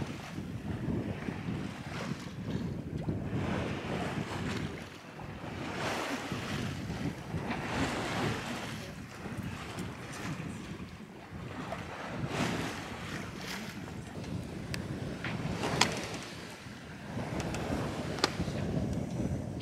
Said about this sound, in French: inspirez un grand coup et écoutez le bruit des vagues